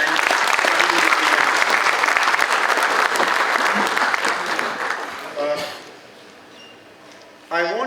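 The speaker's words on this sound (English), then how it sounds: "a big round of applause for all of you for being here and studying with me." Loud, dense applause from a college lecture audience for about five seconds, then fading away, with a voice speaking briefly as it dies down and again at the end.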